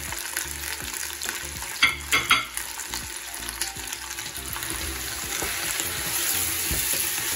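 Onions and garlic fry steadily in a pan for a vermicelli and meat dish, giving a continuous close sizzle with a few brief stirring clatters near the middle.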